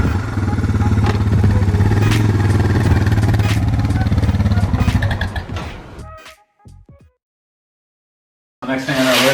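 A Suzuki DR650 motorcycle engine runs in first gear with a loud, steady thumping idle, then cuts out and fades to silence before briefly restarting near the end.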